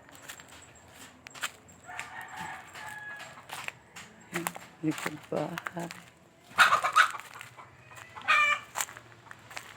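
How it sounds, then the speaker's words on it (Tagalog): Chickens in a backyard, near an old pig pen, give scattered clucks and a couple of brighter calls that stand out against a conversational voice talking throughout. "So may mga manok."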